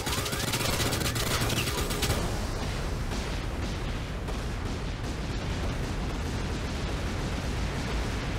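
A screen-clearing explosion in Shantae and the Seven Sirens erupts as a dense, loud crackling roar of rapid bursts, sharpest in the first two seconds and then rumbling on continuously.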